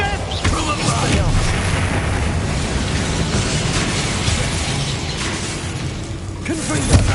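Spell explosions from Bombarda and Confringo in the game Hogwarts Legacy: loud, dense booms and crackling blasts that run without a break, with battle noise filling the whole stretch.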